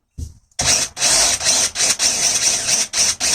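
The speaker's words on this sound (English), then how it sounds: "So that's the screw that's come out. Countersink it." Power drill countersinking a screw hole while building camper van overhead cabinets, a series of loud short whirring bursts separated by brief pauses after a quiet start.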